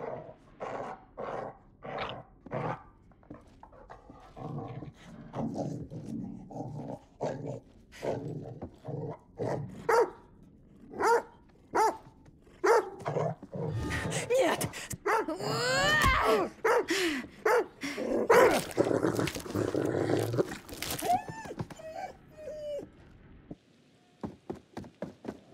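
A dog in the horror video game The Devil In Me barks and growls repeatedly, with sharp, loud barks in bursts and rough snarling stretches between them, mixed with game sounds and no clear talking.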